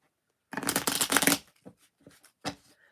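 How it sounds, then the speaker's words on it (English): A deck of crystal wisdom cards shuffled up close, one loud riffling burst for about a second followed by a few softer card slaps and taps. "We're going to go ahead and pull a crystal wisdom card with this."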